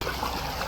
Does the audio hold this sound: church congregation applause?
no